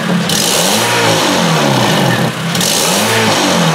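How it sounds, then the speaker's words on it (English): A Honda CR-V engine with a no-power fault and VSA and red brake warning lights on revs up in several repeated pulls, loud and close, its pitch rising and falling with each blip over a steady idle. "Give her some rev ups. A little harder."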